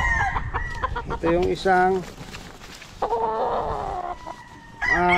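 Young gamefowl roosters clucking and crowing close by, several drawn-out crows and short clucks coming in bursts while someone talks over them.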